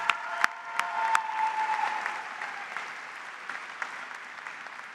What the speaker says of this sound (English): Let's give them both a round of applause for their achievement.